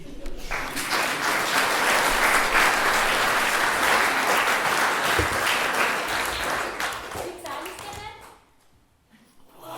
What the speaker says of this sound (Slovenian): Mislim, da obe skupini zaslužita aplavz.